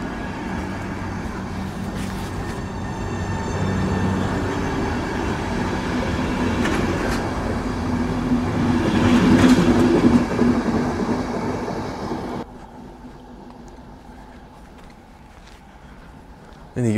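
A passenger train on a ride toward the Danube Bend rolls along the rails with a loud, steady rumble and rattling clatter that grows slightly before dropping to a quieter hum near the end.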